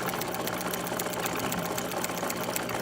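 Sewing machine running a continuous stitching practice line on paper while making a Halloween costume, a steady fast mechanical whir with rapid needle chatter, close and loud throughout with no talking.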